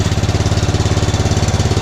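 A loud, close tractor engine chugs at a fast, even rhythm, its low thumping pulses repeating steadily throughout without any voices.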